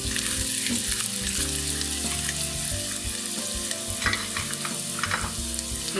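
Garlic cloves and finely chopped vegetables sizzle and fry in a pan for a traditional meat lasagna, a steady close crackle with occasional stirring scrapes and no talking.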